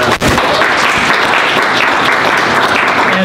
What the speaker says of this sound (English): let's have a round of applause for our Girl Scouts